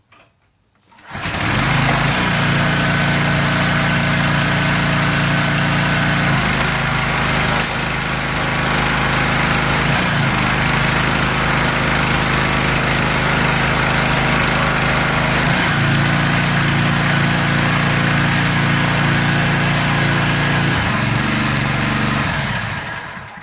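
A Troybilt pressure washer's small gasoline engine starts and runs steadily for over twenty seconds, loud and close, with a constant droning hum that shifts slightly in pitch as the load changes.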